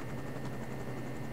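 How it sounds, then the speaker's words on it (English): A helicopter in the ArmA: Cold War Assault video game makes a steady rotor chop over continuous broadband engine noise, loud and even throughout. "Watch the chopper go in."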